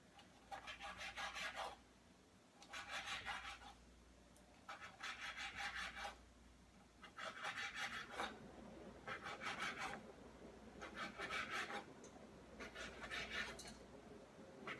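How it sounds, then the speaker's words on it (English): A knife sawing through stacked bacon slices on a cutting board, seven close, rhythmic rasping strokes in steady bursts with short pauses between. "Just keep your bacon slices stacked up so it's easy to cut through."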